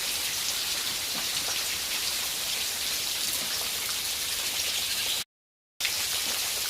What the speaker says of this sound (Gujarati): આપણે જો વરસાદ ચાલુ થઈ